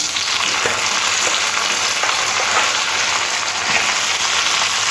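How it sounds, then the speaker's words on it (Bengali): Potato and raw green banana cut into long strips sizzle loudly in hot oil with onion in a pan, a dense, continuous crackling hiss heard close up without any speech. "এবারে পেঁয়াজের মধ্যে দিয়ে দেবো আলু আর কাঁচকলা"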